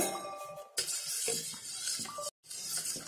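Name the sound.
stirring a pinch of salt into carrot juice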